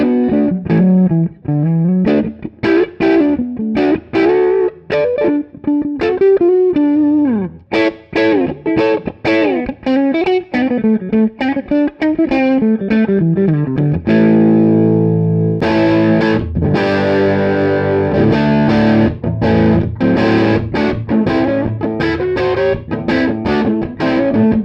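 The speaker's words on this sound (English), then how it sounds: "we'll start out with the neck pickup" James Taylor Variax digital guitar on its stock neck humbucker pickup, a distorted electric lead played continuously with quick picked phrases and sustained bends, then ringing chords, loud and unaccompanied by speech.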